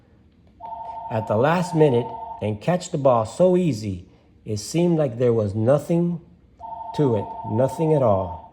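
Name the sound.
phone ringing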